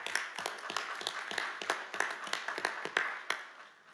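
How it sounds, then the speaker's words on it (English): A small group claps for a city council at a Little Rock board agenda meeting, the claps sparse and uneven rather than a full ovation, fairly quiet in a hall. "let's give the whole council a round of applause."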